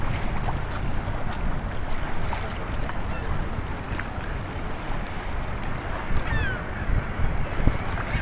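Steady wind buffeting a microphone fitted with a furry windscreen outdoors in Cleveland, Ohio, a constant low rumble with gusts swelling toward the end and no speech.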